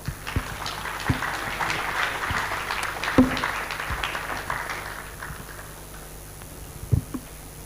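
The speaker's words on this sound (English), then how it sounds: "a round of applause once again" An audience applauds at a Nigerian conference on financing sustainable energy and agriculture infrastructure. The clapping is sustained and fairly even, with a few sharper, louder claps standing out, and it gently tapers toward the end.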